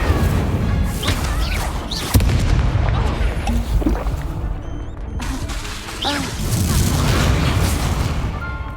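Spell blasts and explosions rumble through a Hogwarts Legacy battle, with booming impacts and crackling bursts layered densely and loudly throughout, and a voice calls out during the fight.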